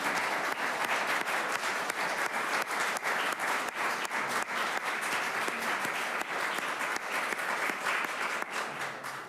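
Steady, dense applause from an audience at a city council meeting in St. Catharines, sustained and fairly loud for the whole stretch with no voices over it.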